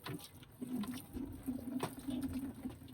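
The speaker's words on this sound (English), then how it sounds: "hand washer on our dachas, in our countryside house. We still have this stuff. This one is made of plastic." Cold water trickles and patters from a plastic hand washer at a countryside cabin in a freezing Siberian winter, faint and close with small irregular splashes.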